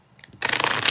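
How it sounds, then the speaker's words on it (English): Tarot cards shuffled loudly right at the ear: a couple of light taps, then a dense, continuous riffling rush that fills the rest, close and bright with no speech. "apologize to your eardrums for shuffling loud in your ear"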